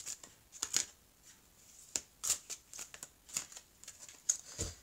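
Tarot cards are shuffled and drawn, giving soft, close riffles and crisp flicks and slides in scattered bursts.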